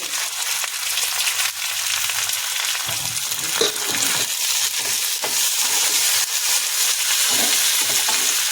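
Curry leaves and ground asafoetida crackle and sizzle loudly in hot oil with cumin, a tempering for masoor dal, with steady frying hiss and sharp pops throughout, close up and with no talking.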